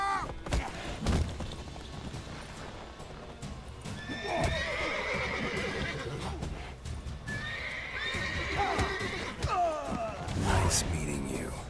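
A horse in the video game The Witcher 3 whinnies loudly twice amid clip-clopping hooves and thuds, with a person talking over the game sounds.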